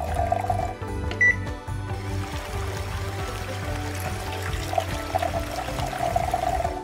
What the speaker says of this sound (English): Pour gasoline into the tank.